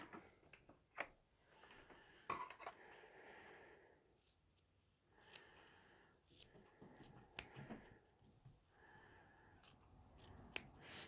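Scissors cut through ribbon in short, crisp snips, quiet and close, scattered irregularly with pauses between cuts.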